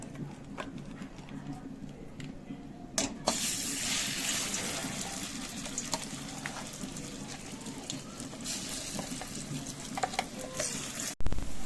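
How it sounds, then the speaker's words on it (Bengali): Ground green peas, blended without water, hit hot oil in a wok with a loud, steady hiss of sizzling that begins a few seconds in and carries on under a speaking voice. "তেলটা গরম হয়ে গেছে, তেলের ওপরে দিয়ে দেব বেটে রাখা কড়াইশুঁটিগুলো।"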